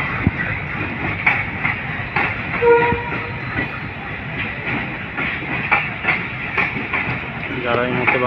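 The Banglabandha Express passenger train from Panchagarh to Rajshahi rumbles and clatters past, sounding its horn in short blasts, while voices talk over it.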